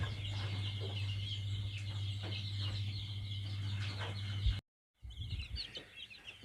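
KUB village chickens in a rearing coop cluck and call together in a busy, continuous chorus over a steady low hum, broken by a brief silent gap near the end.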